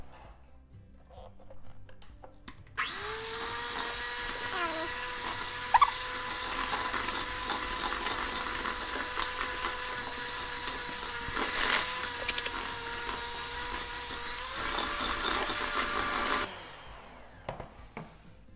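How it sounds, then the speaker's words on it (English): An electric hand mixer creams room-temperature butter and sugar in a bowl, switching on to a loud, steady motor whine that holds for about fourteen seconds before cutting off abruptly. "Especially when you're using a hand mixer like this, it will get the sugar kind of all over the place."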